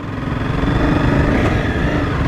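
A Honda CBR250R motorcycle engine pulls uphill in third gear, a loud, steady mid-pitched drone with a rough pulsing beat that holds constant throughout, heard close from the rider's position.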